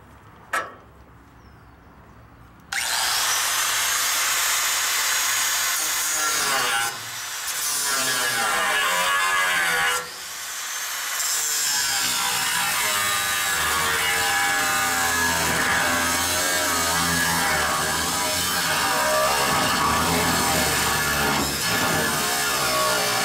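A power saw cuts through the metal frame of a bed trailer, starting after a brief quiet moment with a sharp knock, then a loud continuous grinding whine with two short pauses before running steadily to the end.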